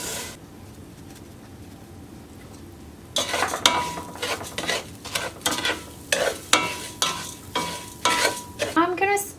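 A thick vegan mac and cheese mixture is stirred and scraped in a bowl, starting after a quiet stretch. The close, rhythmic squelching strokes repeat steadily, and a bird coos faintly near the end.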